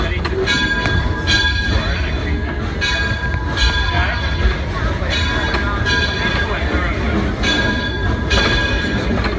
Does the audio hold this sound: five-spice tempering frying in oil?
no